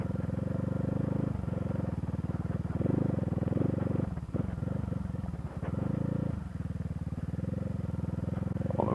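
A CCM Spitfire motorcycle rides on a track on a trip through Spain to Morocco, its engine droning steadily up close with shifts and changes in pitch midway, rising again toward the end, with no talk.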